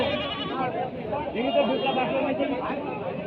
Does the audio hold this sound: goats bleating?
yes